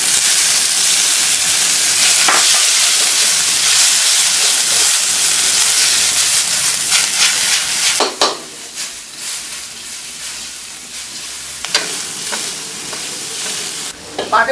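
Shrimp fry in hot oil in a wok with a loud, close, roaring sizzle that drops abruptly partway through. Softer spluttering and occasional utensil scrapes follow.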